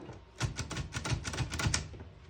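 A 1952 Olivetti Studio 44 portable typewriter carriage runs along its track, giving a rapid series of close mechanical clicks and ratchet taps that stay steady and fairly loud for about two seconds.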